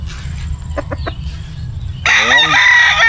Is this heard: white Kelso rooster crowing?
yes